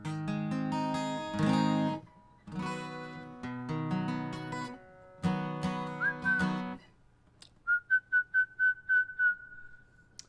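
A recorded song made for a podcast: a full instrumental passage in phrases, then a run of six short, clear whistled notes near the end over a soft held tone.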